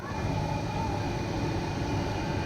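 A steady, even rumble of a metro train running continuously on an elevated line in Bangalore, heard from on board, with no speech.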